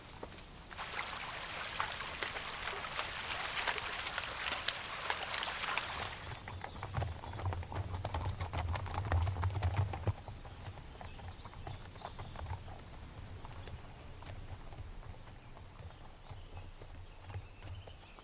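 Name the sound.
horses walking over rough prairie terrain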